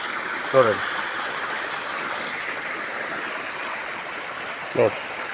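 Steady rushing water flows from irrigation pipe outlets in a sugarcane field, a continuous broadband wash, with two brief voice-like bursts near the start and end.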